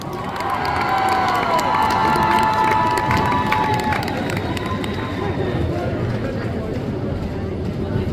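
A festival crowd at a cosplay competition applauds and cheers loudly for a Sailor Fighter cosplayer, with shouts and whoops over dense clapping while an amplified voice or music with tonal lines sounds at first and then fades.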